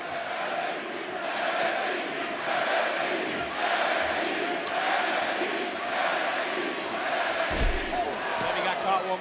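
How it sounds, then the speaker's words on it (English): Wrestling arena crowd at a Sunday premium live event roaring and cheering steadily throughout, dense and loud, with a few thuds and a commentator's voice beneath. "Huge appreciation from the crowd here."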